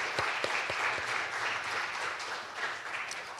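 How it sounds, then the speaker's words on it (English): A dense burst of applause from an audience, steady and sustained throughout, with individual claps audible near the start. "Now please give all of our panelists a round of applause."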